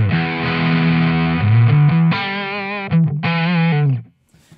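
Electric guitar played through a Mozztronics MD-1 Mew Drive overdrive pedal with echo, sounding loud and distorted in sustained chords and held notes, with a brief pause before a final strummed phrase that cuts off into silence.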